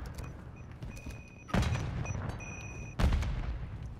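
Grenade blasts in a first-person shooter video game, two loud broadband booms about one and a half seconds apart, each with a rumbling tail, over steady game ambience and faint beeping tones.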